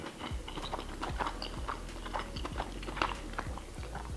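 Soft, wet chewing of a fish dinner at close range, a steady run of small bites and mouth clicks, quiet and without talk.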